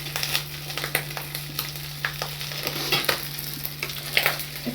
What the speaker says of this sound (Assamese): এটা চাইডে সিজিবলৈ দিম, অলপ সময় পাছত লৰাই দিম।